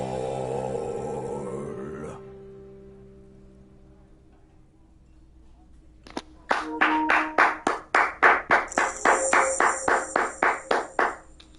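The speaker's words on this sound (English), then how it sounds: "A lazy applause fills the room." Lazy applause in the video game Disco Elysium: after a fading musical tone and a brief silence, a dozen or so slow, loose claps ring out one by one over a faint hum.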